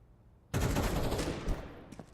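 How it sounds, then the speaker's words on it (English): A gunshot in a shooter video game hits suddenly after a quiet moment: a loud, sharp burst of fire that holds for about a second, then a fading tail with small crackles. "And there's the shot."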